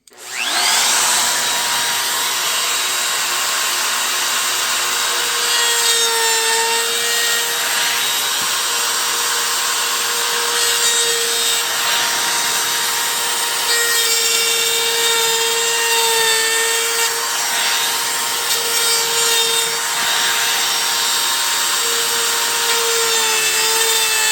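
A router fitted with a straight bit and a template guide bushing cuts wood for a deck light and torch sconce project, a loud steady high-pitched whine with a sustained cutting roar that holds throughout, close and without any talk.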